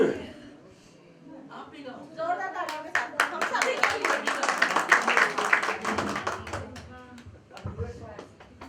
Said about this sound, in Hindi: जोरदार तालियां के साथ हम सभी